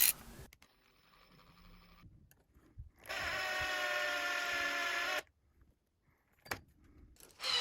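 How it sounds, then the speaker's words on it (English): A drill spinning a chucked eye bolt to screw hooks into a ceiling, a steady whirring burst of about two seconds between quiet handling clicks and knocks. "chuck an eye bolt into the drill and then use this on the hooks"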